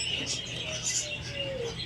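Small birds chirp and tweet in short, high calls, faint and somewhat distant over a low background hum, with a thin whistled note drifting through the middle.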